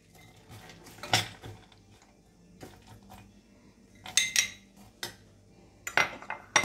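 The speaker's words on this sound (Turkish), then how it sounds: "Erimekte olan tereyağımızın içine iri dövülmüş ceviz parçalarımızı ekleyip birazcık döndüreceğiz" A utensil clinks and scrapes against a pan as crushed walnuts are stirred into melting butter, with sharp metallic taps in irregular bursts over a quiet background.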